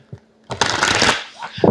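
A quick riffle of tarot cards being shuffled, close and crisp, with brief soft thumps before and after.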